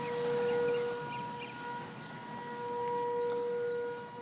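Tornado warning sirens wail across Norman, Oklahoma, a sustained civil-defense tone that rises and falls in slow, distant sweeps, heard alone without talk.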